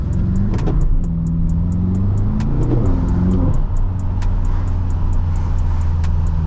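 A BMW M6 engine revs hard as its wheels spin on a wet road on a rainy night, a loud, close, sustained roar that rises and falls in pitch over rapid ticking, with no talk.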